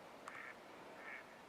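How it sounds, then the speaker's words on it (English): Two short, faint duck quacks sound from a distance on a lake, spaced about a second apart over quiet background hiss. "quack, quack, quack, quack."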